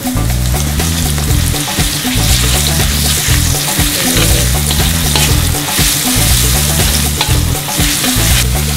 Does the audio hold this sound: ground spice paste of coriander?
yes